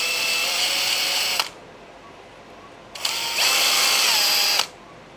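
Power drill chamfering holes in a fuel pump hat for a connector, two loud whirring bursts, the first about a second and a half and the second slightly longer, separated by a short quiet pause.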